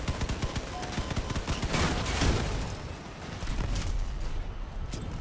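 Bot vehicles in the Crossout vehicle combat game fire their weapons in a dense, rapid barrage of gunfire with booming impacts, the volleys thinning briefly midway before resuming.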